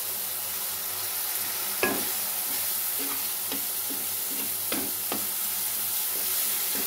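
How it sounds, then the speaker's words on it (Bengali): A spice paste of salt, turmeric, cumin and coriander powder with a little sugar sizzles steadily in a pan while a spatula scrapes and stirs it in a few distinct strokes, close and alone. "মশলাটা এখন আমি ভালো করে কষিয়ে নেব।"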